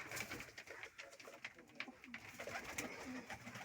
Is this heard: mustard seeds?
no